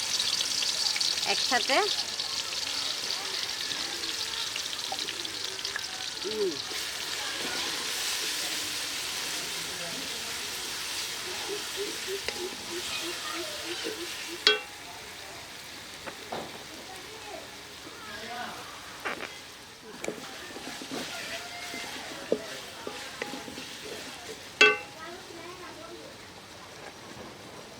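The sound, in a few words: ginger, garlic and onion paste frying in hot oil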